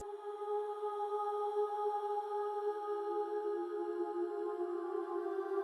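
Alchemy vocal preset pad for a melodic ambient beat, run through a convolver reverb, a soft continuous tone with layered harmonics and a washed, airy top that sustains evenly and quietly with no voices.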